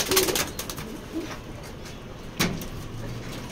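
Pedigree racing pigeons in a loft give low, soft cooing up close, over a rough background hiss with a brief knock partway through.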